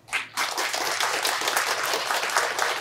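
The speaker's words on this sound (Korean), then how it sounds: "큰 박수로 다시 한번 부탁드리겠습니다." An audience applauds steadily after a keynote speech at a 2023 brain education convergence symposium, dense clapping holding at an even level from start to finish with a low background hum.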